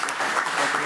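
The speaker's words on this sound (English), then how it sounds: "Let's give her another round of applause" An audience at a school board meeting applauds, a dense, even patter of many hands clapping with no voices over it.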